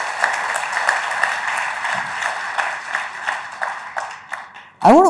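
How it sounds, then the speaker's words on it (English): At the India Today Conclave during an interview with the Chief Justice, an audience claps in a fairly sparse, rhythmic burst of applause. It fades out before a short sharp sound at the end. "I think that warrants a round of applause"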